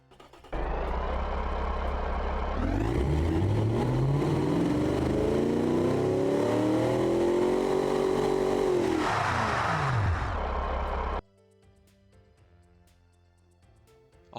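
A V8 Cammer engine with single overhead cams, in the Automation car-design game, revs loudly and climbs steadily to a high pitch before dropping back. Quiet music plays once the engine cuts off.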